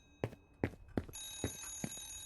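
An old-style telephone rings in the horror game Remothered: Broken Porcelain, five evenly spaced bell bursts roughly every half second, with a steady electronic hum joining partway through.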